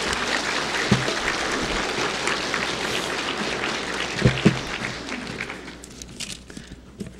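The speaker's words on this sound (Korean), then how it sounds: "자, 박수." Applause from a church congregation as a pastor comes forward, a steady round of many hands clapping with a few nearby thumps, fading toward the end.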